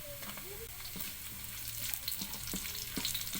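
Onion and garlic frying in a pan for a pork minanok dish, a steady close sizzle with stirring clicks and scrapes, crackle growing slightly louder toward the end.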